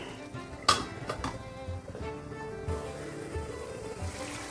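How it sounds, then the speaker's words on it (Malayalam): A metal lid clatters onto a cooking pot holding a sizzling Kerala-style prawn roast, one sharp clank followed by smaller knocks and soft frying hiss, fairly quiet and close. "ഒന്നുകൂടി നമുക്ക് മൂടി വെക്കാം."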